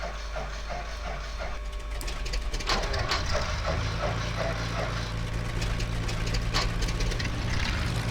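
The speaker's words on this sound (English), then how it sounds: "I'll just start the engines again." Twin engines of a RealAir Beech Duke spool up in the FSX flight simulator, a low steady drone building steadily under clicking switch and mechanical sounds, growing louder and fuller in the second half.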